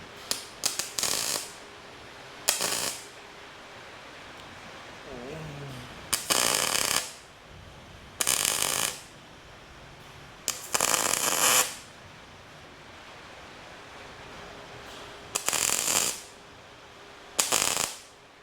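Tack welds on a DIY rear wheel carrier, about eight short bursts of harsh crackling buzz, each a second or so, separated by quiet gaps in a workshop.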